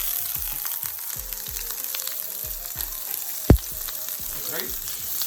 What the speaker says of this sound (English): We're gonna go in with our vegetables, our peppers, onion,